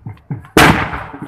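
Fireworks go off for a wedding procession arriving in a Pakistani village: a loud, sudden burst of crackling bangs follows two softer pops, then rings out and decays into a noisy rumble.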